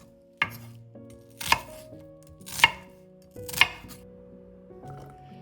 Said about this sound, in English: Then chop 1 medium shallot into small pieces and separate the layers.